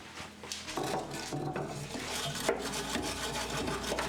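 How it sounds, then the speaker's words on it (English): Brush scrubbing grime off a rail on a Datsun before a welding repair, with irregular scratchy rasping strokes, close and moderately loud, no speech. "I'm gonna grab a brush just to try to remove a bit of the schmutz in there"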